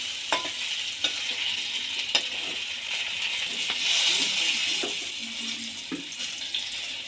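Sliced potol (pointed gourd) with a little salt frying in hot oil, a steady broad sizzle with occasional stirring clicks and scrapes, close and moderately loud, with no talking.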